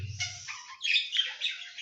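Budgerigar chicks let out thin, high, squeaky chirps in a short close-up burst, with a brief low rumble at the start.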